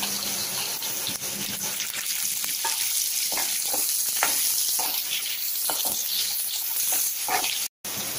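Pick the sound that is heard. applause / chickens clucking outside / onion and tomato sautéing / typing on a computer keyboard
onion and tomato sautéing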